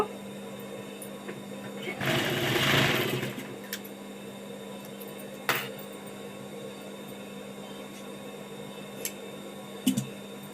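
A sewing machine stitches the back panel of a nightie in one short whirring burst of about a second, followed by near silence with a few scattered clicks and taps.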